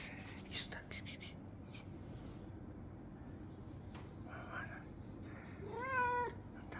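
Persian cat giving a short, rising meow near the end at low volume, after faint whispering and soft rustling in a quiet room.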